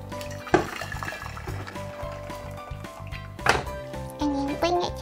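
Water pouring into a pot for cooking pork and salted egg zongzi, a sloshing, splashing fill with a couple of heavier thunks, heard up close and fairly quiet.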